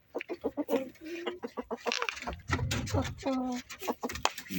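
Rooster and hens in a farmyard cluck in quick, repeated bursts close by, with a few longer calls, while a person talks over them.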